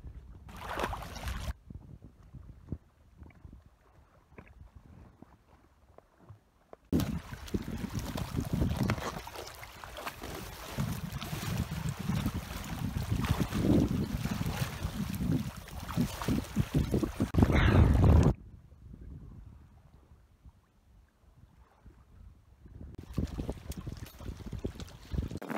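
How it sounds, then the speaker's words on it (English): A breeze blows at a warm Mediterranean shoreline at night, heard as a steady rushing wind noise that swells loudly through the middle section and drops away at the ends, with no talking. "I have a little bit of breeze here, which can be pretty bad."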